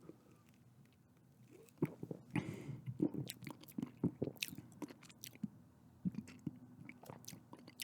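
Someone close to the mic drinks Dr Pepper and chews, giving soft wet mouth sounds and a brief sip followed by a run of irregular crunchy chews in a quiet room.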